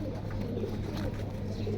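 Cooing of a big ash-coloured pigeon with a mate, held close during a pigeon sale, a low steady murmur that runs through the whole short stretch without talk.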